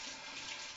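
Cherry tomatoes are rinsed under a running kitchen tap, giving a steady, close rush of water with no break.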